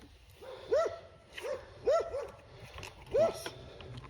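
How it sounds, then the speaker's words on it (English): Dogs bark in three clear, evenly spaced bursts at moderate distance along a bicycle route, each a sharp bark with a short whimpering tail over quiet background noise. "If I stand here, I'm annoying the dogs more."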